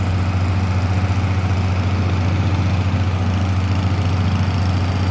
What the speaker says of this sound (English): Excuse the noise, there's a truck behind me.